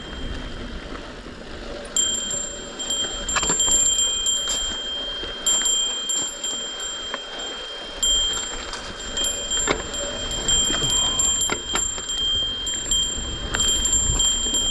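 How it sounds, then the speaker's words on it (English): A bike bell rings with high, thin repeated tinkles in an irregular pattern over steady rolling and rustling noise on a hiking trail in Angeles National Forest, on the Strawberry Peak loop. "All right, let's turn on my bell."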